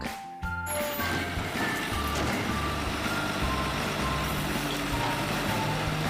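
A toy garbage truck gives off a steady electronic reversing beep over a dense, loud mechanical whir that continues unbroken after a brief pause at the start.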